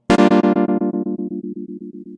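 A sustained guitar chord through a Strymon Mobius rectangle-wave tremolo, sliced into abrupt evenly spaced volume steps at a fast steady rate, starting bright and loud and settling into a softer pulsing hum.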